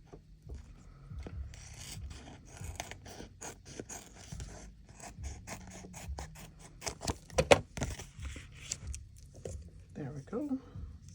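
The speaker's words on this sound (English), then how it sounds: "It still needs to be trimmed a bit right down at the bottom here." Scissors trim the edge of a DTF sticker, giving faint, irregular snips, clicks and paper rustles close by, with a voice talking over them.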